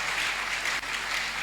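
A church congregation at a French-language worship service breaks into applause, a dense, steady wash of clapping that holds for a second and a half with a brief dip partway through.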